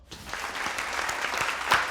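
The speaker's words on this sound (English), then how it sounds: "Everybody's clapping for each other all the time." Studio audience and quiz teams at a Christmas racing quiz clap politely, a short burst of scattered hand claps building slightly louder toward the end.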